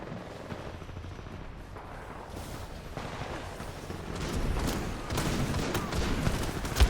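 Gunfire in the video game Titanfall 2, a dense rumbling stream of distant shots and explosions that grows busier and louder toward the end, with no voices.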